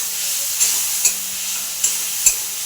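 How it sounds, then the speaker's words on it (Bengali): Spice masala and tomato being stir-fried for fish curry, a quiet steady sizzle in the pan broken by four sharp spoon clinks against the pot at roughly half-second and one-second intervals, close and without speech. "মশলাটা ভালো করে কষে নিচ্ছি, মাছের কারিটা তাহলে ভালো হবে বন্ধুরা।"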